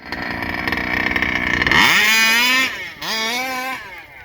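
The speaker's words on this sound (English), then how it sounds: "That was a half throttle takeoff." A ported ESP Championship 30.5 engine makes a loud, close half-throttle takeoff, rising sharply in pitch as it accelerates, then drops off briefly before revving up again.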